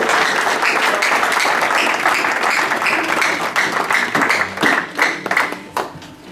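A church congregation at a Sunday service bursts into loud, sustained applause and clapping that fills the room, thinning into more scattered claps toward the end.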